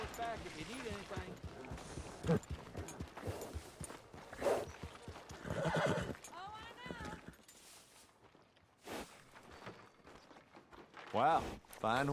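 Horse hooves clip-clopping in Red Dead Redemption 2, with snorts or a faint whinny mixed under frequent male game dialogue and background music, the steps fairly close and intermittent.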